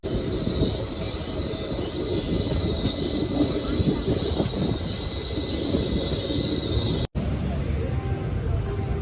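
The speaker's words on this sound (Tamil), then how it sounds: "ட்ரெயின் அவ்வளோதான், கோயம்புத்தூர் ரயில்வே ஸ்டேஷன்லேருந்து கிளம்பிடுச்சு" A train pulls out of Coimbatore railway station with a loud, continuous rolling rumble and a sustained high-pitched wheel squeal, a brief dropout interrupting it near the end.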